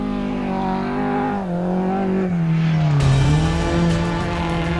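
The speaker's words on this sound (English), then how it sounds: "Just putting that little GX Coupe perfectly through the two gate posts." A little GX Coupe rally car drives through two gate posts at a rally event, its engine note loud and rising and falling as it revs, with a harsh burst of noise toward the end.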